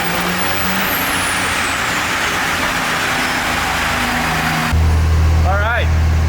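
A car engine with a Steed Speed T4 exhaust manifold roars continuously on a dyno, loud and sustained, with a shift in tone near the end.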